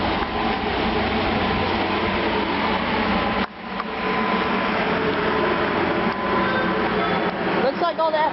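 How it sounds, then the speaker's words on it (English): A steady low rumble and rail noise build as a train draws near at Burlingame, with a brief dip midway and faint squeals near the end. "There's a train approaching."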